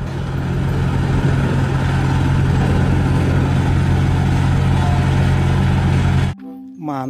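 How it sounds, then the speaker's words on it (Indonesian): Toy road roller engine sound effect: a loud, steady droning motor hum with strong low tonal layers, running evenly and then cutting off abruptly just before the end. "Wow, lihat, ada mobil salender besar teman-teman."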